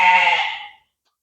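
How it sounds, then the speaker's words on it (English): A single sheep bleats loudly and close by in a pen on a farm in Ghana, one sustained nasal call that fades out after under a second, alone with no talk. "I got sheep right here at the minute"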